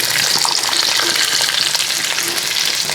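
Small onions sizzling loudly in hot oil with beef fry, stirred through the pan, a dense steady crackle with faint scraping, no voices.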